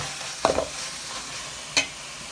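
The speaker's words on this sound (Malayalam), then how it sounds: "പച്ച മസാലയുടെ മണം പോകുന്നത് വരെ നല്ല രീതിയിൽ ഇളക്കി കൊടുത്ത് മിക്സ് ചെയ്തെടുക്കാം" Green masala paste being stirred and fried in a pan, a low steady sizzle with two distinct scraping clinks of the spoon, close and fairly quiet.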